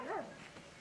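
A poodle gives a single short bark at the start, faint and somewhat distant, followed by quiet background.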